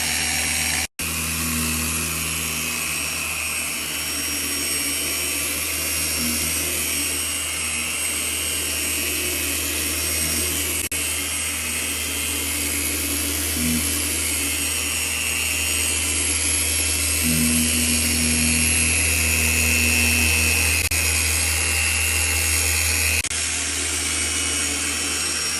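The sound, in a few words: power polisher buffing compound on headlight at speed 3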